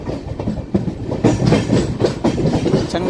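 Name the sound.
Chengalpattu local train passing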